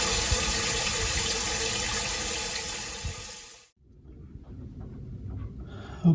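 Bleach water being pumped out of a boat's former holding tank: a steady, broadband rushing gush for several seconds that cuts off abruptly, followed by quieter trickling and faint handling noises.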